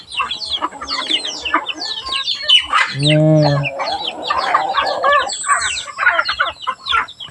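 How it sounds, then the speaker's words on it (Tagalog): Farm chickens cluck and squawk steadily while feeding, a close, busy flock with overlapping calls and one longer, drawn-out rooster-like cry in the middle. "kumakain na ang mga manok"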